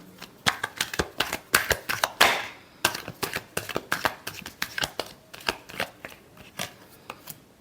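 Tarot cards being shuffled by hand in quick close bursts of crisp riffling flicks, with one longer riffle near the start and a steady run of sharp snaps afterward, no talking.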